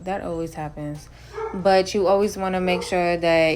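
A pet dog barks excitedly and whimpers in a series of rapid yips as someone enters the house, loud and close, mixed in with a person talking during a nail art session.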